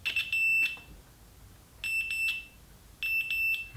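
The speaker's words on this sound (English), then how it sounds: "red wire, when touched with a red wire, should beep." Three short bursts of a high, shrill electronic beep from a multimeter continuity tester checking wires, each lasting about half a second, with quiet gaps in between, near and clear.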